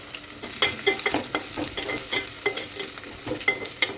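Onions and green chillies fry in oil with cloves and cinnamon in a pot, a close steady sizzle broken by the regular scrape and clack of a spoon stirring.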